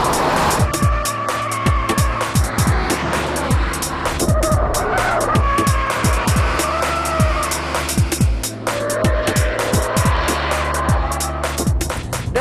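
A Subaru Impreza WRX is driven hard on a damp race circuit, with loud engine note, rapid gear changes, and repeated bursts of revving throughout.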